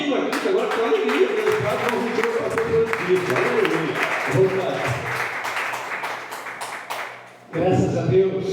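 A church congregation claps and applauds in a dense sustained wave that drops off briefly before rising again, heard under a preacher's voice talking over it.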